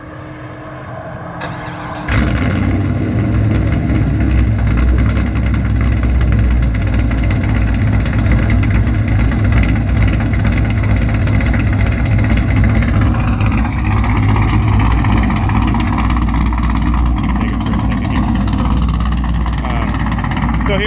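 After a short quiet moment, a car engine cranks and catches, then settles into a loud, steady idle rumble that continues close by.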